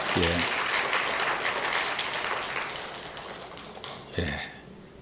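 A church congregation at a Sunday morning worship service applauds a deaconess who prepared rice cakes, clapping loud at first and gradually thinning, with a brief voice near the start and another near the end.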